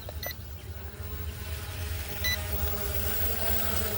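A few short, high electronic beeps from a K21 Max drone during auto landing ring out near the start and again a couple of seconds later over a steady motor hum and background noise.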